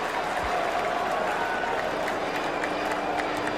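Cricket crowd applauding in a stadium during a Tendulkar-versus-McGrath contest, a steady, sustained wash of clapping heard from a distance with no break.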